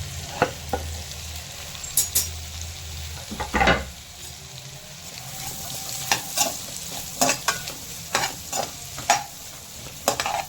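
Four onions sauté in melted butter for paneer butter masala, a low sizzle running under repeated sharp scrapes and knocks of a spoon stirring the pan, close by.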